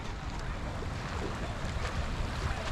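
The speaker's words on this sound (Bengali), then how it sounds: "এই পানির স্রোত এবং এই ঝর্ণার থেকে যে পানিটি নেমে আসছে" Water rushes in a shallow stream fed by a waterfall in rainy weather, a steady broadband roar with wind buffeting the microphone throughout, loud and close.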